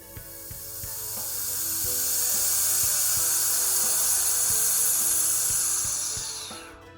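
A pump motor whirs steadily with a hissing whine that swells, holds, then fades, with faint rhythmic ticking and clicks underneath.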